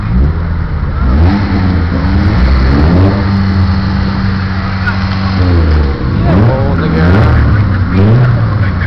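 A car engine revs hard at a nighttime street race on Allens Ave, loud and close, climbing and falling through repeated acceleration sweeps, with shouting voices faintly underneath.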